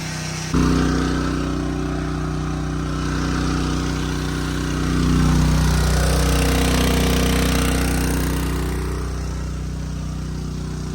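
A 212cc gasoline engine drives a 3-inch semi-trash water pump, running loud and steady at close range and emptying a sump pit, with a swell in engine pitch near the middle.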